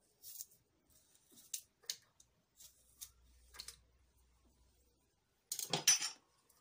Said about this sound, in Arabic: ثومة، قسمها هنا بالموس باش يسهل الطحن ديالها